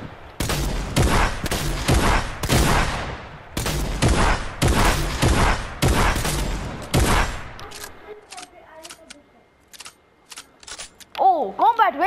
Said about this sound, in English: I want you to waste all the ammo and reload them